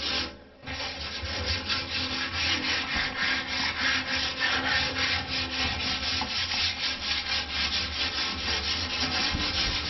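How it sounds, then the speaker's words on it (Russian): Coarse sandpaper rubbed by hand over a bathtub surface before coating with liquid acrylic, a steady, close and loud back-and-forth scraping that continues without pause after a brief quiet start. "берем наждачку, грубая наждачка,"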